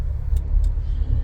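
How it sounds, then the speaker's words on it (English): A car passing on a foggy road, a low rumbling swell of engine and tyre noise, moderately close and brief, with no talking. "You didn't see that car just go in front of you?"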